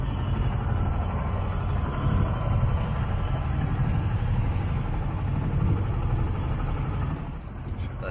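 A sailboat's engine drones steadily at sea in calm, windless dawn conditions, a continuous low motor hum with wind-like rush over it, fairly close and even throughout.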